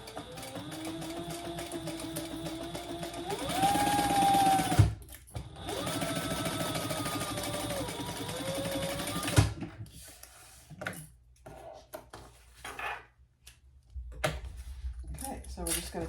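A sewing machine top-stitching and basting a fabric bag, running in two steady bursts of rhythmic whirring clatter with brief stops and clunks between, then quieter handling noises, close up.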